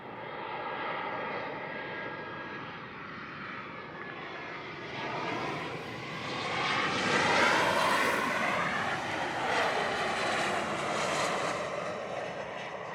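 A passenger airplane on landing approach at Montego Bay airport in Jamaica roars steadily from a distance, its engine noise building and peaking near the middle before holding at a broad, loud level.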